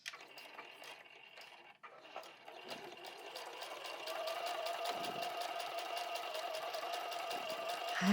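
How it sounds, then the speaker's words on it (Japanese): A sewing machine stitches both sides of a large fabric pouch with a close, rapid mechanical whir and needle chatter that starts in short bursts and then runs as a steady continuous hum. "で、両方縫いますね。"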